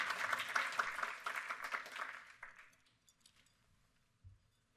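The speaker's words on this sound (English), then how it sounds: "you can applaud" Audience applause for a talk by the Special Assistant to the President for Agriculture, Trade and Food, a burst of clapping that swells early, then thins out and fades to scattered claps and quiet.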